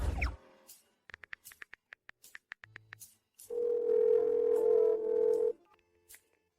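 A telephone call being placed: a brief burst of noise, then a rapid series of short dialing beeps, followed by a steady, fairly loud dial tone lasting about two seconds before a faint trailing beep.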